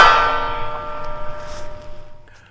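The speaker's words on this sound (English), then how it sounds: "One more time on the gong." A bullet from a Kimber R7 Mako rifle strikes a steel gong on an outdoor range, giving a single sharp metallic clang that rings on with a wavering shimmer and fades over about two seconds.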